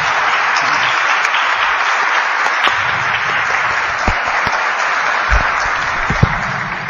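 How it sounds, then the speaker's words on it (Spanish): Steady, dense audience applause fills the whole stretch at the close of a theology conference session, with a few sharper individual claps standing out near the end and no talking. "Muchas gracias, un aplauso."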